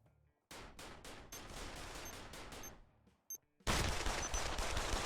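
Gunfire in the VR shooter Pavlov VR, a rapid burst of automatic shots, a brief pause and a single crack, then a louder, denser fusillade, all sharp and close.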